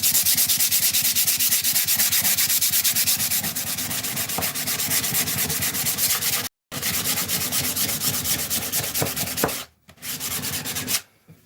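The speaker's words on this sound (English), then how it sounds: "So I'll take that older 100 grit, which is a little worn, and fold that up." Worn, folded 100 grit sandpaper rubs by hand along wooden edges, a loud close rasping scratch in fast regular back-and-forth strokes, broken by a brief pause and a short stop near the end.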